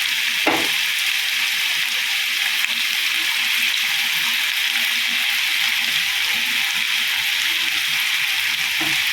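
Potatoes frying in a pan for a Tamil-style potato fry, a steady loud sizzle filling the whole stretch with a faint scrape of stirring near the start and no voices.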